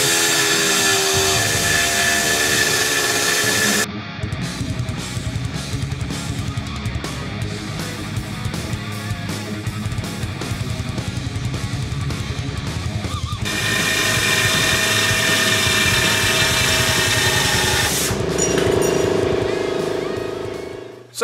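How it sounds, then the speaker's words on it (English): A Japanese-made SP Air SP-7610 gear-driven reciprocating saw cuts through thick plate steel. It makes a loud, continuous grinding buzz whose tone shifts across the cut and then stops abruptly at the end, close by. "The gear-driven saw, which is going to be the SP Air, will be able to cut through this very efficiently."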